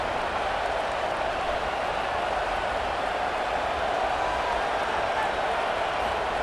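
A stadium crowd roars in a college football video game, Clemson at Louisville, a loud sustained wall of cheering with no breaks, while a commentator talks over it.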